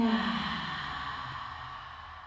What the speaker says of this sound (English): You really breathe onto your mats here as well, so you get an extra sound.